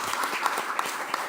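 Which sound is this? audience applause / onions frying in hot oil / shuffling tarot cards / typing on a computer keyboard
audience applause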